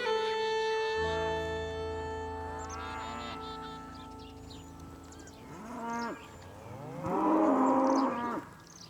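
Several cows moo in long, low, drawn-out calls, one after another, with a louder bellow near the end; fairly close and no talking.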